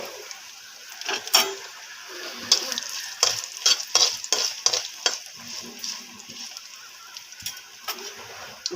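Cashew nuts fry with dried red chillies and tempering seeds in oil in a pan for carrot upma. A close, steady sizzle is broken by bursts of spoon scraping and stirring.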